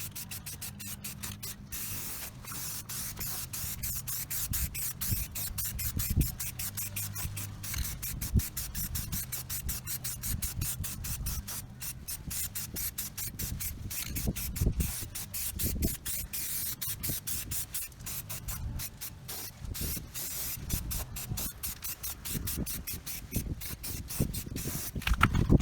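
Rust-covered metal gets a base coat from a spray can or spray gun, with a continuous close hiss that runs almost the whole time and brief pauses and shifts as the spraying moves around outdoors.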